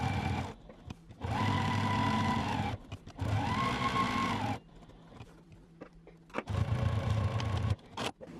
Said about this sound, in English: we're going to take it to our sewing machine and sew all the way around just with about 1/8 inch seam